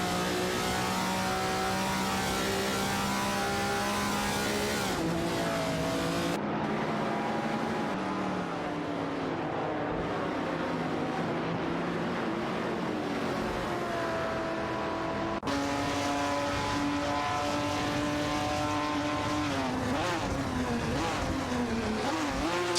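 Classic race cars, including a 1970 Plymouth Superbird and a Ferrari 250 GTO, roar around a track in a racing video game, engines droning and revving loudly with pitch shifts as cars close in and pass.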